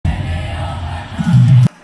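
A large concert crowd at a show sings along loudly in a dense, sustained wash of voices. A clearer sung tone rises near the end before cutting off abruptly.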